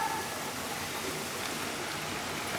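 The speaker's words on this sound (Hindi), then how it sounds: "कल कल करते हुए झरनों की आवाज़" Kapildhara waterfall at Amarkantak, Madhya Pradesh, a steady broadband rushing murmur of falling water, close and continuous with no other sounds.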